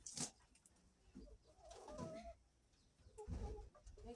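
Chickens on a poultry farm give faint, scattered clucks and low coos, with a short crackle at the start. The calls come and go over quiet background noise.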